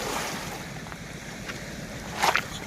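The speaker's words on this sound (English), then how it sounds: "Enjoying the sounds of the ocean." Ocean waves wash onto an island beach in the Philippines, a steady broad hiss mixed with wind, with a sharper splash of surf near the end.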